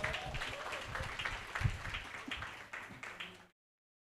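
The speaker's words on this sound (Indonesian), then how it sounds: "Sekali lagi beri aplaus untuk Bung Rocky Gerung." Audience applause for Rocky Gerung at an Indonesian talk event: steady clapping from a room of people, fairly close, sustained for about three and a half seconds before cutting off abruptly.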